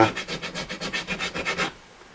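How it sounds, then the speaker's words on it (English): Diamond grit files rasp across guitar frets in a rapid, even series of about a dozen back-and-forth strokes, close and fairly quiet, stopping abruptly near the end. "boy, these files are fast, man, super fast. They're diamond grit."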